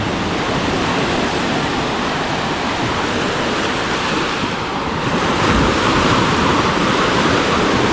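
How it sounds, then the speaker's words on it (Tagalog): Loud, continuous roar of heavy surf with waves crashing nearby at Baler, wind noise buffeting the microphone, swelling slightly toward the end. "Lakas talaga ng alon."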